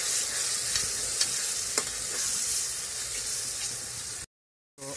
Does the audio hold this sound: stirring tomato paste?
yes